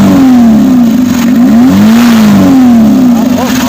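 A Mitsubishi L300 with a 4D56 diesel engine revving to high RPM, loud and close, its pitch rising and falling in repeated swells over a constant mechanical roar.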